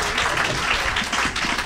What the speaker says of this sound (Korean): 크게 한번 박수하겠습니다.